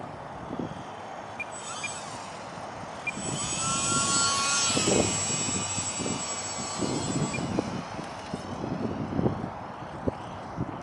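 A small airplane's engine drones steadily overhead, swelling louder midway with a thin whine riding on top, amid broadband rushing noise.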